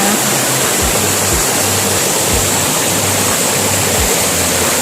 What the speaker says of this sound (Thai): ตรงนั้นก็จะเป็นทานน้ำตกที่ไหลมา